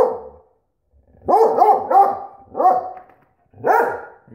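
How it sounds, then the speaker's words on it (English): A German Wirehaired Pointer mix barks loudly and close by, a series of sharp, high-pitched barks in quick bursts with short pauses between them. "You have a pretty bark, Murph."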